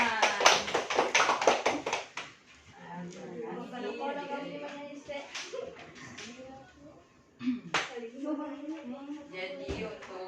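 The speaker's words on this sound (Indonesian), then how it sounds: "Tepuk tangan." Children in a primary school classroom clap their hands together in a quick burst of loud, rapid claps near the start, then the clapping fades under ongoing talk and shuffling.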